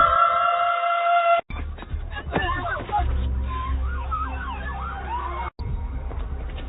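An ambulance siren sound effect wails with a rising and falling tone at a fairly loud, steady level, briefly cutting out twice, with muffled background sounds around it.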